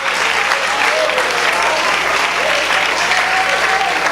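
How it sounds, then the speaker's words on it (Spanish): Church congregation applauding the Lord during a sermon, a loud, dense, steady wash of clapping from many hands that fills the whole stretch with a murmur of voices mixed in. "dele fuerte el aplauso al Señor"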